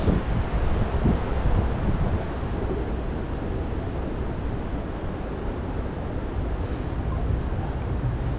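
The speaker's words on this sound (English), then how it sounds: "It is windy out here." Strong, steady wind roars across an open lake during a cold front at dusk, a dense continuous rumble with gusty buffeting on the microphone, with no talking.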